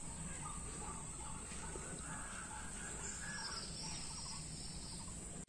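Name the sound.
birds calling outdoors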